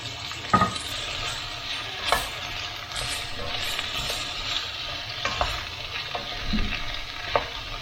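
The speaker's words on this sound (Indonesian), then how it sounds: "Kita tumis 2-3 menit." Vegetables, including potato, sautéing in a pan for courgette soup, with a steady sizzle and periodic knocks and scrapes of stirring, close and without talking.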